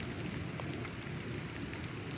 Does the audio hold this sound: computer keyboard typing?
no